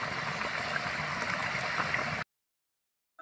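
A pot of fish curry simmers with a steady bubbling hiss, close and even for a couple of seconds before it cuts off into silence.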